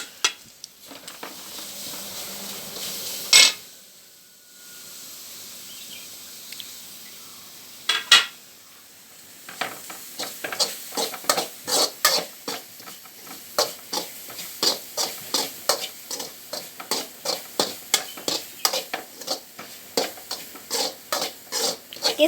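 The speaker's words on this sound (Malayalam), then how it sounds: "ആവുന്ന വരെ നമ്മളിനി ഇതിനെ ഇളക്കിക്കൊണ്ടിരിക്കും." Grated coconut roasting in a pan is stirred with a utensil, a rhythmic run of close scraping strokes and clinks over a faint dry sizzle, becoming faster and steadier toward the end.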